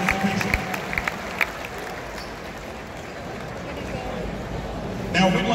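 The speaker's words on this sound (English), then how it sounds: "Another round of applause, ladies and gentlemen." Crowd applause for marching band participants at an Ohio State skull session rises as a steady rumble of clapping under a public-address announcer's voice, swelling again at the end.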